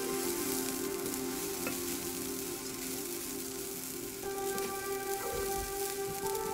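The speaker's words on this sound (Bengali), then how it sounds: "আমি মশলাটা এর জন্য চালের সাথে ভেজে নিলাম" Packet biryani spice being fried together with rice in a pan for beef biryani, giving a steady close sizzle that fills the whole stretch with no talking.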